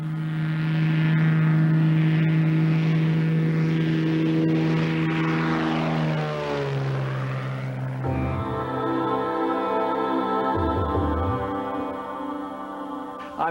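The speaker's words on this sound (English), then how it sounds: "Lotus Airways' fleet of 2 Cessna light aircraft provides short hops to the nearest airport" A Cessna light aircraft flying past with a loud droning propeller engine whose pitch sweeps downward as it passes, then settles into a steadier hum as it moves away.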